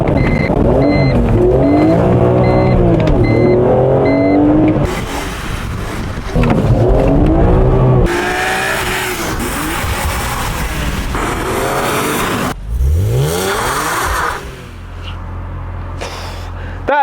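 A 2007 BMW Z4M Coupe drives hard, its engine rising and falling through several loud revving accelerations with sharp gear changes. Bursts of wind and road noise sit between the pulls.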